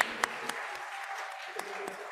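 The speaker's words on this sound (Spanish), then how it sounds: "Aplauso para ti también." Scattered congregation applause during announcements at a Sunday Mass, a thin, quiet spattering of claps with a few sharper individual hand claps standing out, fading somewhat toward the end.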